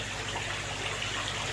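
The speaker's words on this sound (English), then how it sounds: "the air stone creates disturbance on the water, or in the water like that does, to create the bubbles" An aquarium air stone bubbles steadily in the water, giving a soft continuous gurgling hiss at close range with no talking over it.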